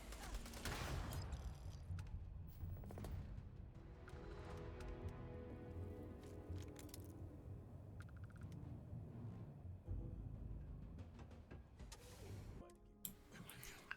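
Explosions and crackling blasts from the video game Starfield, with dense bursts of popping and rumbling debris that rise and fall unevenly over about fourteen seconds, fairly loud throughout.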